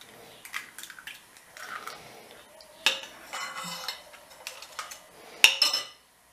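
Egg cracked and whisked in a bowl for cheese katmer: close clinks and scraping of utensil against dish, with a few sharp taps and knocks, busy for several seconds before stopping.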